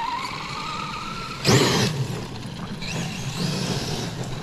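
Kyosho FO-XX RC car on paddle tires bashing outdoors, its motor whirring steadily before a sudden loud burst of spinning, scrabbling traction and higher revving pitch, then settling back to a softer drive.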